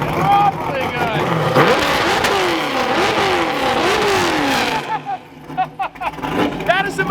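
A 750-horsepower naturally aspirated car engine revs hard, its pitch climbing and falling in repeated sweeping surges before cutting off, then a few shorter blips follow, loud and close.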